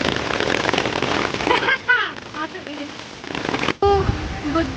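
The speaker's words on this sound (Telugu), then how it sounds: "మొత్తం వర్షం." Steady rain falls outdoors in Hailand near Guntur, a dense continuous patter with crackling drops striking an umbrella, and brief voices break through partway.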